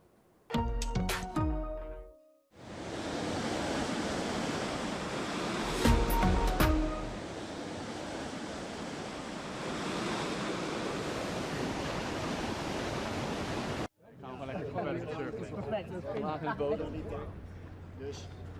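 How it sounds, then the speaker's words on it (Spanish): Steady roaring rush of water from a surfing wave pool in central Rotterdam, Netherlands, a loud continuous wash lasting about eleven seconds, with voices speaking briefly before and after. "verán la piscina de olas para surfear que han montado en pleno centro de Rotterdam, en Países Bajos"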